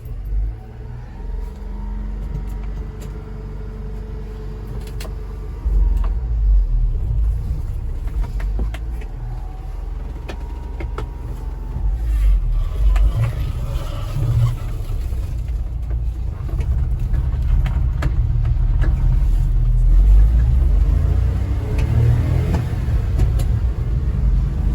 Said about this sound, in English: Let's go ahead and take it for a drive.